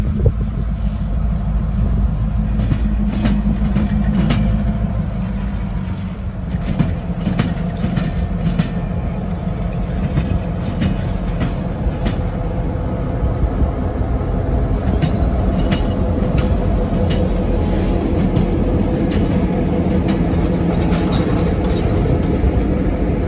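A train rolls past steadily on the Norfolk Southern main line in eastern Illinois near Decatur on a cold day. Its loud, continuous rumble carries faint rhythmic clacks and heavy wind buffeting across the microphone.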